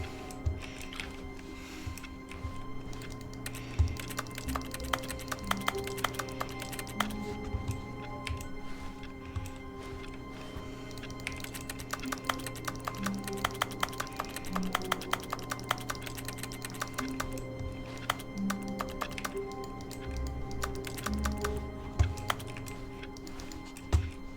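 Computer keyboard keys struck at random in rapid, uneven clusters of clicks and taps, close and fairly quiet over a steady low hum, with no voices heard.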